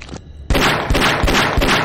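Shotgun shots in the video game Tomb Raider: a sharp loud blast after a quiet moment, followed by a few heavy booming thuds in quick succession.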